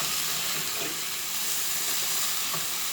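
Vegetables sizzle in a pan, a steady, even hiss of frying that holds at a moderate level throughout with no talking.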